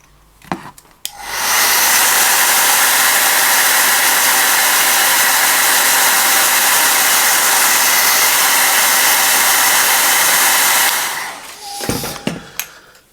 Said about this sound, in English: I want to give it a little quick hit with the hairdryer.